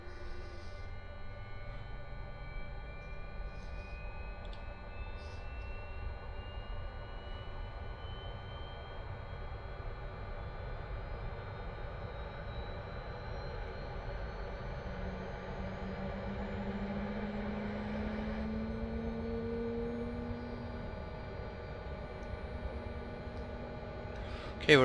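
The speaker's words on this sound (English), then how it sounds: "switch on our jet starter" A Gazelle helicopter's jet starter spins up in the DCS flight game, a continuous turbine whine with tones climbing gradually in pitch over a steady engine hum.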